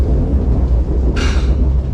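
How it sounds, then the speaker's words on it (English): Seoul metro train passing overhead above a small restaurant in a mall beneath the tracks, a heavy continuous low rumble with a brief hiss of brakes or wheels partway through. "You can hear the metro going by."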